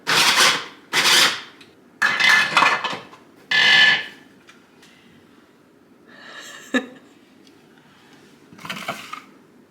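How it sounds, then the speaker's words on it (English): A food processor grinds healthy snack ingredients in batches, with four loud, harsh bursts of whirring over the first four seconds, then quieter rattling pulses afterward. "All right, now we're just going to grind them."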